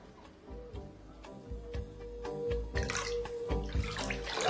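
Water runs steadily into a bathtub as a bath is drawn, a continuous close splashing rush with a faint ticking underneath and the flow growing fuller toward the end.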